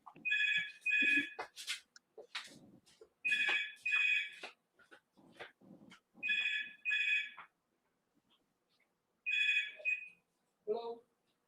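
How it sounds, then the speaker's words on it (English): An incoming telephone ringing in repeated bursts of bright electronic tones, close and fairly loud, with people talking between and over the rings. "I'm sorry, I've got to take this phone call."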